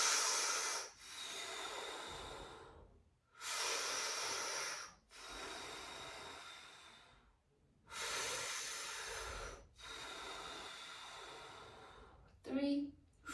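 Deep breaths drawn in and pushed out through the mouth, near and breathy, in long hissing phases separated by short pauses, repeated about six times, ending with a brief vocal sound.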